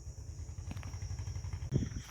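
A tractor engine idles and chugs steadily on a farm field during sowing work, a low rhythmic throb that holds constant throughout with a brief clank near the end.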